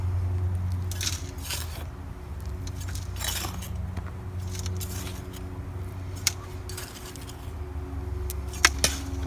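Garden soil and potting mix being mixed by hand, soft gritty rustles and crunchy scrapes coming in irregular bursts, close and fairly quiet over a low steady hum, with no talk.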